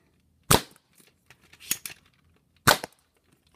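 A Nerf Zombie Strike CrossCut toy blaster fires three sharp, loud pops spaced about a second apart, each a brief crack with faint mechanical clicks between, close by and with no talking.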